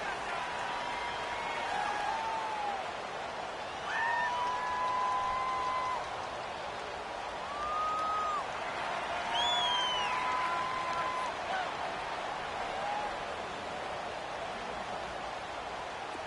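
Stadium crowd noise in a PS4 football video game during a late fourth-down goal-line play, a steady broad roar with whistles and cheers rising over it at intervals, filling the whole stretch without talk.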